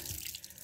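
Tap water runs briefly at a household sink, a faint, steady hissing splash.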